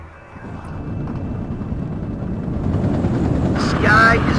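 Military helicopter in the Cold War strategy game WARNO, a steady rotor and turbine roar that builds gradually and swells near the end, with game radio voice lines over it.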